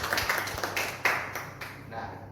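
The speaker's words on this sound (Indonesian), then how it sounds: "kita beri aplaus lagi ya untuk Karina" A small round of clapping for a student presenter, scattered hand claps close by, with a voice speaking over them.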